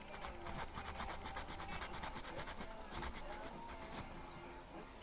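Sanding or rubbing down a model figure, a steady close scratchy rasping in quick repeated strokes that runs the whole time with no talk.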